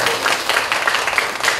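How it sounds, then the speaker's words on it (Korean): A church audience at an anniversary praise concert claps for the band's keyboard accompanist, a brief, steady burst of many hands applauding at moderate loudness. "큰 박수 부탁드립니다"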